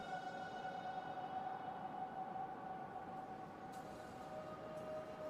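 Trains pull into a refueling station in the game Factorio: Space Age, giving a steady mechanical hum with a thin sustained whine layered on top, even in level and heard alone without talk.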